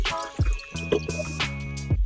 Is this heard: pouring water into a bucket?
yes